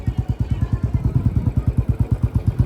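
A motorcycle engine thumps in a steady, rapid rhythm while riding slowly through a crowded temple area during Sawan Monday; close, moderately loud, with no clear talk over it.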